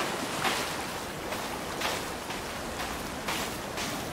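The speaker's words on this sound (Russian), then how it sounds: "Атмосфера моря передается. И по звукам, и по всему вообще." Sea waves roll ashore in the Sons of the Forest video game, a soft, steady wash of surf with gentle swells building and fading, heard fairly faint and alone.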